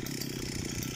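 Stihl string trimmer with line cutting grass in the rain, a continuous close engine drone with a buzzy, even tone throughout, no talk.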